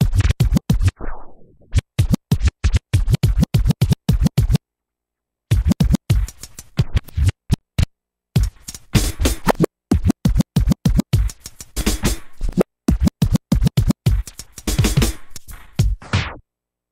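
A turntable juggle of a drum break in a 16th-note triplet pattern of kick, hi-hats and snares, with rapid, choppy percussive hits chopped into bursts by short silent gaps, loud and close.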